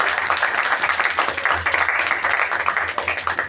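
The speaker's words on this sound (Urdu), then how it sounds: "یسوع کے جلال کے لیے تالی بجائے" A church congregation clapping, dense rhythmic applause from many hands in a steady, pulsing pattern, loud and close, with a low hum running underneath.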